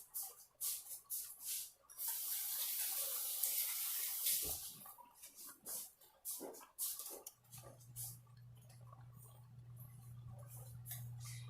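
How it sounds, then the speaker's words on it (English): Hands rinse under a running kitchen tap, a hissing spray of water with splashes, broken by brief pauses and handling knocks, while a low steady hum sets in near the end. "Gonna rinse my hands from the lime again."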